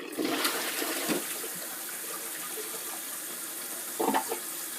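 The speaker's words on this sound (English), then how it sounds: "that was the little flush supposedly" A Fluidmaster DuoFlush dual-flush conversion fitted to a toilet doing its small flush, a close rush of water that swirls steadily down, with a brief gurgle near the end.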